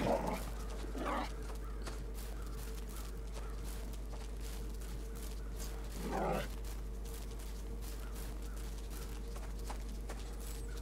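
A dog barks in Will To Live Online, a survival video game. Two short bursts of barking, about five seconds apart, sit over a steady low hum of ambient game noise.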